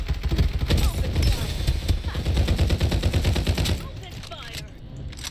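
Rapid automatic fire from an AK rifle in the battle royale game Farlight 84, a dense, loud burst of shots running for several seconds before thinning out near the end.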